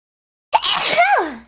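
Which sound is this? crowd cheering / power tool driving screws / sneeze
sneeze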